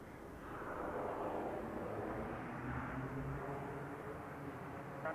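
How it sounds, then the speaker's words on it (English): A Challenger business jet landing on a runway gives a distant, steady engine roar that rises in and holds, fairly faint and even, with no talk over it. "Challenger jet 6200 landing runway 17 right"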